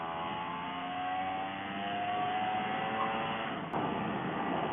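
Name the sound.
Vespa PX 125 scooter with Barone 230cc conversion, accelerating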